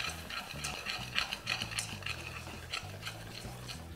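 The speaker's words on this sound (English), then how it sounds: "give that a very good mix around" Caramel mixture with vanilla extract and baking soda being stirred in a pot, a spoon scraping and clinking in quick, uneven strokes at low volume, with a faint mechanical hum underneath.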